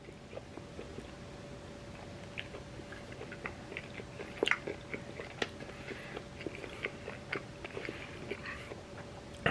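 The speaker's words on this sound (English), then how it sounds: "Man, that's a lot of chew." Close, quiet chewing of thick homemade pasta, soft rhythmic wet mouth sounds and small clicks repeating steadily over a low room hum, with no talking.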